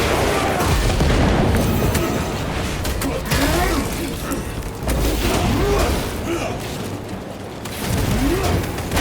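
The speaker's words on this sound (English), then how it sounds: "Frag grenade deployed." A frag grenade blast in Warhammer 40,000: Space Marine 2 lands amid dense battle noise, with heavy booms, rumbling, and voices mixed into the loud, chaotic din.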